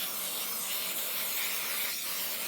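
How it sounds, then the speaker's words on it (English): Baking spray hisses steadily from a can as it coats the inside of a cake pan for a strawberry pound cake, one continuous close, even spray with no talking. "I have some baking spray that I'm going to just spray on the inside of the pan"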